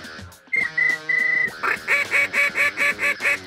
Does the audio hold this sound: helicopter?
no